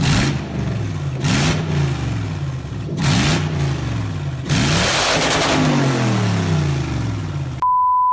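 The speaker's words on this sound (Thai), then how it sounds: "ทุกคนเคยได้ยินเสียงเครื่อง 3UZ นะ เสียงแบบกระหึ่มเลยเครื่อง V8 นะผม" Toyota 3UZ V8 engine revving hard in repeated loud bursts, the deep roar climbing and falling with each blip before a final long rev that cuts off abruptly, followed by a steady electronic tone.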